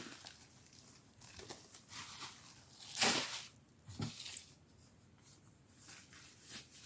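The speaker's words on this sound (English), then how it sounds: "Let me go ahead and take the plastic off." Plastic sheeting is peeled off an indoor worm bin, a quiet close rustle with one sharper crinkling burst midway and softer scrapes around it.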